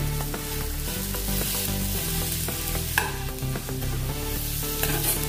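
Large slices of onion fry in a pan for vegetable noodles, giving a loud, continuous sizzle with occasional stirring knocks and music underneath.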